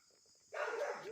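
Dogs rush in on a woodland path, a sudden burst of close, loud scuffling and yipping starting halfway through after near silence.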